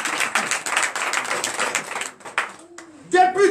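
Applause from a congregation during a church deliverance and prophecy night service, a dense patter of clapping for about two seconds that fades out, followed by a brief voice.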